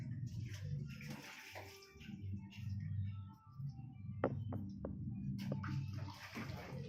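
Water poured and sloshed to rinse out a basin, a steady running and splashing sound close by with a few clinks of the vessel, beneath quiet background activity.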